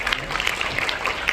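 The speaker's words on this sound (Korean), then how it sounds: "모두 뜨거운 박수로 맞아주시기 바랍니다" A conference audience at a global leaders' forum breaks into applause, a dense, even patter of many hands clapping for the whole short stretch.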